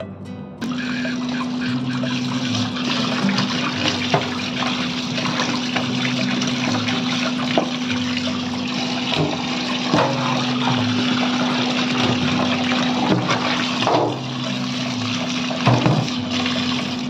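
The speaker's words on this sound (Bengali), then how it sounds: "মাছটাকে আমি একটু ধুয়ে নেবো।" Pabda fish being rinsed in water in a kitchen, a steady trickle and splash of running water going continuously throughout with a low constant hum underneath.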